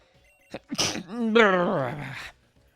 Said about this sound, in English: I hate to sneeze.